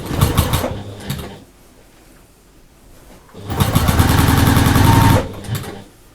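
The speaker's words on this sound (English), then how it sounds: "this time when you start stitching, I only want you to stitch a couple of inches" A sewing machine stitches quilt binding on a lap quilt in two loud, fast bursts of rapid mechanical whirring with short starts in between, separated by a quieter pause.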